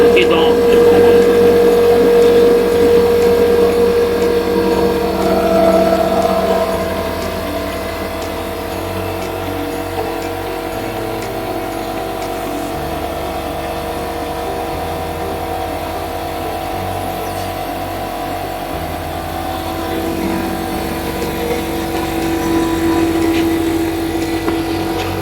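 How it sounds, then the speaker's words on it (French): Compressors run to fill gas cylinders with biogas made from biodegradable waste in Congo. A steady mechanical hum carries a sustained tonal whine, louder at the start, easing through the middle and swelling again near the end. "C'est ainsi qu'il est acheminé vers ces compresseurs ici, que nous allons allumer pour que le gaz soit stocké dans les bonbonnes."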